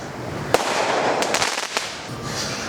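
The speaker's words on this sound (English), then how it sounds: "It's almost fireworks time here." July 4th fireworks bursting outdoors, with a sharp near crack followed by a cluster of rapid pops and crackles over a steady background hiss, no talking.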